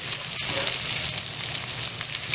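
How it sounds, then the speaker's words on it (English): Steaks sizzling in bubbling butter on a grill, a steady, close, loud broadband frying hiss with faint crackles running throughout. "You see the bubbly butter? It's cooking it."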